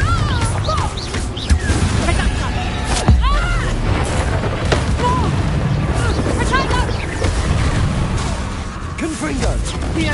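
Explosive blasts from the Confringo spell in a Harry Potter duel, loud booming bursts and crashing debris amid a dense, busy game soundscape with voices over the top.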